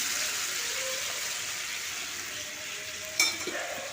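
Raw jackfruit and potato fry in hot oil with spices, giving a steady loud hiss close by. A brief clatter and stir near the end break the sizzle, and no voices are heard.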